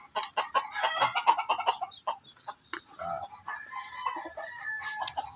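Farm chickens clucking and a rooster crowing before being slaughtered, a busy overlapping mix of close clucks and squawks with a drawn-out crow near the end, no talking.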